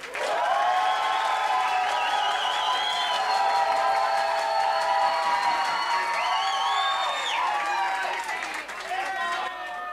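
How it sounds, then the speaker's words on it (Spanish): Steady, loud audience applause with cheering and shouts fills a talent show hall as another participant is named, easing slightly toward the end. "Aplausos también para Joche."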